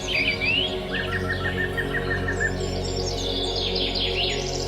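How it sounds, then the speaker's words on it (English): Birds chirp and tweet in quick, repeated bursts of high, twittering calls that layer over a steady background hum, with no voices present. "The king bird nodded his head and made a call."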